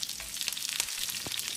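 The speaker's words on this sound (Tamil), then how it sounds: "ஒரு 30-40 செகண்ட் இதை நல்லா வதக்கி விட்டுடலாம்" Minced garlic, mustard seeds, fennel, curry leaves and dried chilies sauté in hot coconut oil in a pan, giving a soft, crackly sizzle with scattered pops, heard alone and fairly quiet.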